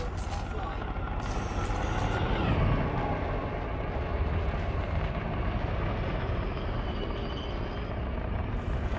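A Vulture spaceship engine in a video game gives a steady, deep, throaty burble that holds loud and continuous throughout, with a swell near the start.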